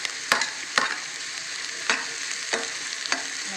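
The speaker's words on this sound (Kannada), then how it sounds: "ನೋಡಿ ಈ ರೀತಿ ಫ್ರೈ ಆಗಬೇಕು" Green chillies fry in a pan under a steady sizzle, with about five sharp, evenly spaced scrapes as a spoon stirs them.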